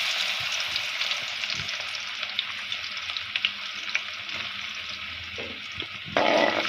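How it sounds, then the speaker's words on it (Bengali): Garlic dropped into hot oil, frying with a steady bright sizzle and occasional crackles and stirring clinks, close and constant, growing louder near the end. "তেলটা গরম হয়ে গেছে, এখন আমি এখানে রসুন দিয়ে দিব"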